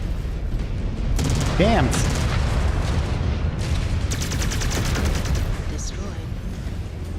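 Mech weapons firing and exploding in the video game Mechwarrior, a dense rumbling barrage of booms and crackling blasts that runs throughout, with a voice speaking briefly over it.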